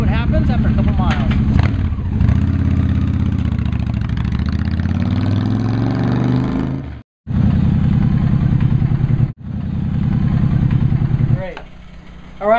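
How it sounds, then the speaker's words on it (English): A motorcycle rides on the road: a close, steady engine drone rises and falls with throttle changes, with two brief dropouts. Low mechanical hum continues under the road noise, and there is no clear talk. "so now we're going to take it for a ride and see what happens after a couple miles."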